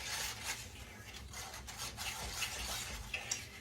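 Eggs get mixed in a bowl with an electric mixer, giving a steady rubbing, rasping whir with small clinks against the bowl, close and fairly quiet.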